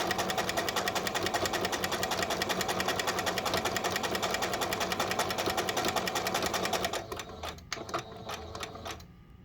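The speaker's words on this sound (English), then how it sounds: "I'm going to pop it into the machine, back stitch, and sew straight across." A sewing machine stitching across the cuff of a stuffed bear's shirt runs at a steady rapid whir-and-clatter for about seven seconds, then stops, leaving a few faint clicks and handling sounds, with no talking.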